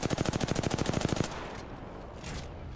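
Rapid automatic gunfire from Apex Legends, a loud close burst of evenly spaced shots lasting about a second, then quieter game sounds and a faint later rattle.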